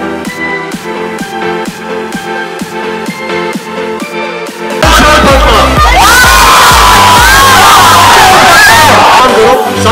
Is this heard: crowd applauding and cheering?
yes